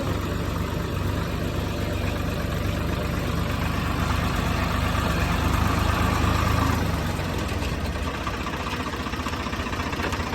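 A tractor engine idles steadily, a loud continuous low chugging rumble close to the listener with no one speaking.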